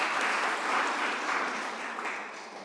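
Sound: audience applause welcoming a guest

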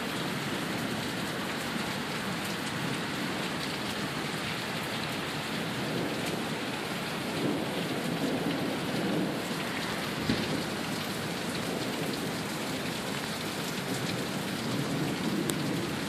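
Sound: heavy rain downpour with thunder in Sioux Falls

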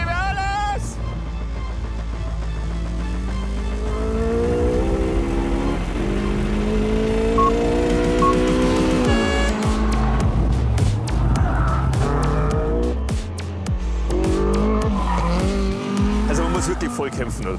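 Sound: Caterham Seven 485 R sports car driving a fast lap

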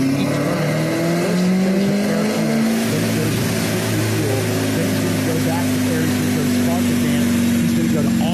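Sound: car engine revving at high throttle on a dyno

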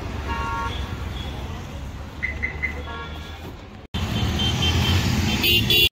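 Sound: city street traffic in Jaipur

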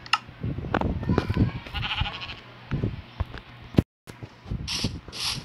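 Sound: sheep bleating in the video game Minecraft

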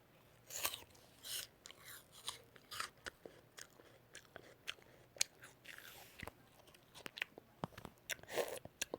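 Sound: chewing a crunchy honey apple

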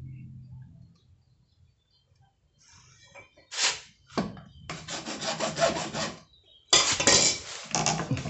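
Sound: sawing a PVC pipe

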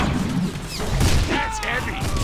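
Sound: gunfire in Deadpool video game

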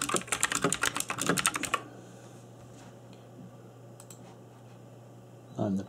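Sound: typing on a cheap mechanical keyboard

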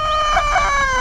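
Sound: chickens and rooster crowing at sunrise

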